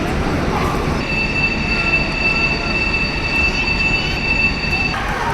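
A Chinese high-speed bullet train pulls into the platform, its rumble overlaid by a sustained high-pitched wheel squeal that rises midway and cuts off near the end, loud and close.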